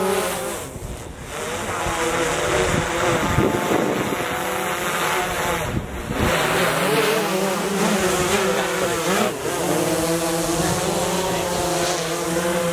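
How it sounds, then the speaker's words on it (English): A drone hovers and flies overhead outdoors near evicted, trashed apartments in Youngstown, Ohio, giving a steady, buzzing, insect-like whine that runs continuously throughout at a fairly close, even level. "Got footage of the drone and a drone operator."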